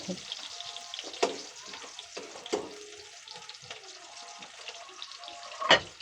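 Hot oil spits and crackles in a pan during home stovetop cooking, with a few sharp louder pops standing out over a steady low sizzle, close by and alone.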